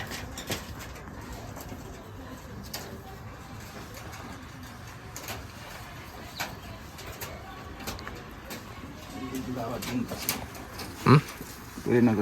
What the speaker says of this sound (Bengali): মার্শাল্লাহ অনেক সুন্দর কবুতরগুলো